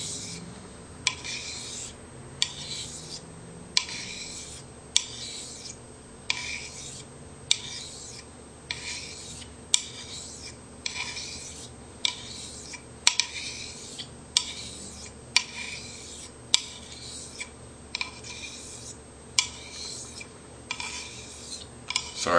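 A straight razor is honed with very light strokes on a fine sharpening stone, a regular series of soft rasping swipes about every second, each ending in a faint tap, quiet and close with no talk.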